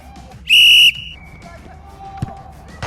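A referee-style whistle blown once, loud and shrill for about half a second, to start a football challenge at a club training academy, over faint crowd murmur and a few thuds.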